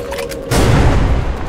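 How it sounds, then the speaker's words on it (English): A trip mine goes off in the video game Metro 2033 Redux: a loud, sudden boom about a third of the way in, followed by a heavy roaring blast that fills the rest of the moment. "An explosion? Was there a trip mine there and you walked into it?"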